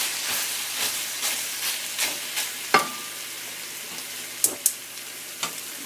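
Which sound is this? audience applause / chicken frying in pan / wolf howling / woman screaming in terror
chicken frying in pan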